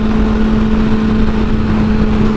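A Subaru WRX accelerates past with a loud, steady engine drone holding one strong pitch, close and continuous over the short span, with no voices.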